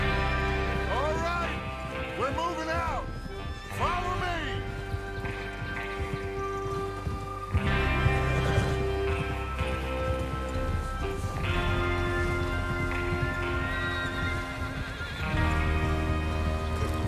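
In the Red Dead Redemption 2 video game, horses whinny several times in close succession early on, with hooves clopping amid a dense bed of in-game sound and voices.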